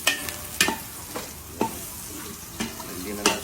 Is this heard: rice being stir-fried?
yes